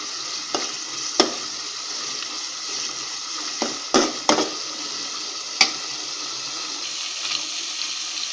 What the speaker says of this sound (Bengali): মশলা কষানোর সময় কিছুক্ষণ পর পর অবশ্যই ঢাকনা খুলে ভালোভাবে নেড়ে দিতে হবে।